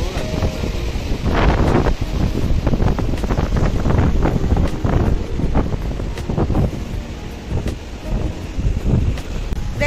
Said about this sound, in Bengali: হাওয়াটা দারুণ।